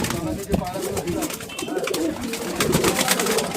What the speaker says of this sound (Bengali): প্রত্যেকটা পায়রা খুব ভালো কোয়ালিটির পায়রা